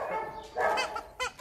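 A dog barking in short, close, loud yips and woofs, two or three quick bursts in a row.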